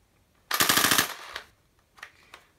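An H&K MP5A5 airsoft AEG dry fires on full auto, giving one loud rapid mechanical burst of about half a second, followed by a few fainter clicks and rattles.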